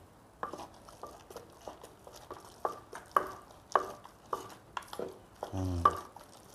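Sliced kaffir lime leaves and long beans being mixed by hand into shrimp in a bowl, giving a run of close, wet squelching and patting sounds in irregular bursts, with no talking.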